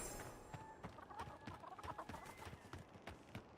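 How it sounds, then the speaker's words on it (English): Chickens clucking in the fantasy video game Avowed, a steady run of quiet, repeated clucks mixed with soft game ambience and no one talking. "Chicken."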